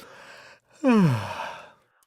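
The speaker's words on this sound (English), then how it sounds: "I yawn." A single drawn-out yawn, rising to a loud voiced peak and then trailing off into a breathy sigh over about a second, close and alone.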